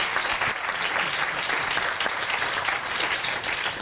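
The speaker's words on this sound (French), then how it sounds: "c'est un beau geste. On peut l'applaudir." Steady audience applause from a theatre crowd fills the space, dense and continuous clapping at an even level throughout with no voices rising above it.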